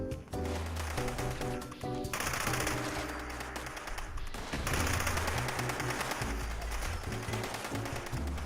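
Sustained light machine gun fire in Fallout 76, rapid automatic bursts that rattle on loudly and close up, briefly breaking off and then resuming with heavy, dense shots, with no voices.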